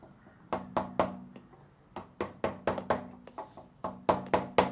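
Soft, close knocking taps on a phone and camera mount fitted to an Aveta Ranger 110 motorcycle, coming in a string of irregular single and paired knocks with brief gaps, no talk.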